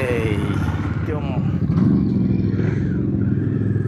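A motorcycle ridden along a road, its engine droning loud and close with some revving and clatter throughout, while people talk over it.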